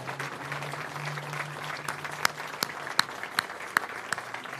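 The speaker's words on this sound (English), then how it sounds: "Let's give another round of applause to our honor guard" A modest outdoor crowd applauds steadily at a Hollywood Walk of Fame star ceremony, for an honor guard and singer, with a few sharper, louder claps standing out near the end.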